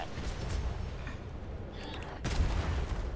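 In a ship battle in the video game Atlas, cannon fire booms over a rumbling mix of game noise, with one loud broadband blast standing out near the end.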